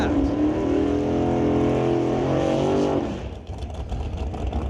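Dragster engines roaring at a drag strip, a loud sustained drone that cuts off sharply partway through, leaving lower rumbling background noise.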